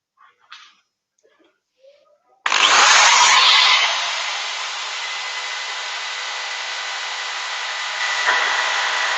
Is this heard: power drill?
yes